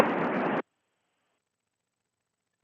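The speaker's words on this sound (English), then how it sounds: "You will hear some static and it sounds like this." Radio static bursts from an amateur receiver when the squelch opens before calling the International Space Station: a steady hiss for about half a second, then silence, and a brief return of static at the very end.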